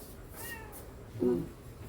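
A kitten mews twice, a thin faint cry first and then a clearer, louder meow shortly after, close by over quiet background.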